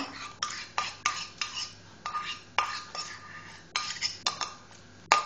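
A whisk or spoon clinks steadily against a bowl while pancake batter is mixed with melted butter, a series of sharp, close taps and scrapes in an uneven rhythm.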